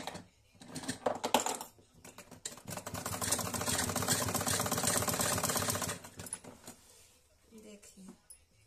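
A sewing machine stitches a band-collar kurti in steady rapid bursts of needle clatter, loudest through the middle, with brief handling noises before and after.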